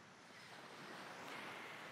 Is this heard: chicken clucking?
no